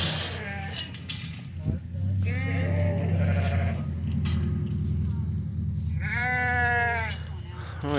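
Sheep and goats marked with orange paint bleat repeatedly at close range on a St. Croix farm, several wavering cries overlapping with people chatting nearby.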